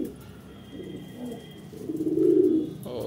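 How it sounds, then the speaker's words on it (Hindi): Soft, low pigeon cooing rises and swells toward the end, close by, with faint background hum and no talking. "और कुछ कबूतर अंदर बैठे हुए हैं।"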